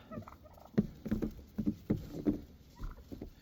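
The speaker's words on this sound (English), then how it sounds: "Turkeys just came down from the roost and came directly to my front door." Wild turkeys come down from their roost to a front door before a snowstorm, giving quiet, irregular gobbles and clucks. The calls come in short bursts at a moderate distance.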